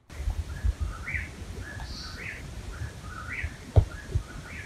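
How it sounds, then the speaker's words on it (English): Repeated whistled calls of an eastern whippoorwill ring out at a steady rhythm over a low rumbling background, several phrases in a row at moderate distance. "The first thing you'll hear is the distinct call of the eastern whippoorwill."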